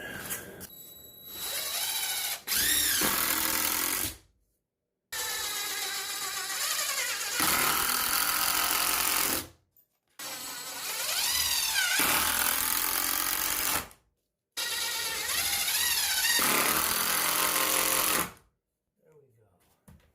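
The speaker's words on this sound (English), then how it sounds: "I'm going to drill some holes in so that this stays put" A power drill whines in four long bursts of several seconds each, drilling holes to fix a jig in place during a kitchen renovation, separated by short silent gaps, loud and close with no talking.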